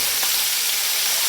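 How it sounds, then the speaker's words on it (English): Potatoes fry in a pan alongside pork chops, giving a steady, close broadband sizzle that holds evenly throughout with no talking. "So we're gonna fry the potatoes."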